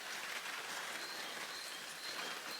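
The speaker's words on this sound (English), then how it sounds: "listening to the rain falling on the roof," Steady rain patters on a greenhouse roof, a dense, even hiss of drops drumming continuously and close without pause or talk.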